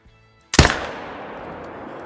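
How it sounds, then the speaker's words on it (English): A single loud rifle shot cracks out close by in a whitetail deer hunting video game, its sharp report trailing off into a long, fading echo after a moment of near silence. "Two bullets into him."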